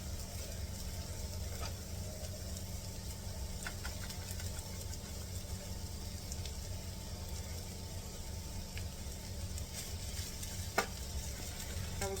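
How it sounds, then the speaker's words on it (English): Fried rice with vegetables sizzles steadily in a hot pan as soy sauce goes in, a constant low crackle and hiss with a few faint clinks, fairly quiet and with no voices. "I'm gonna add a little soy sauce."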